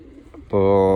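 Pigeons in a dovecote: after a faint, quiet start, a single loud, close, low throaty coo begins halfway through and holds steady to the end.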